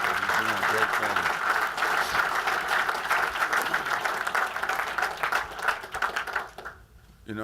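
An audience breaks into a round of applause that keeps up for several seconds under faint voices, then drops off abruptly near the end.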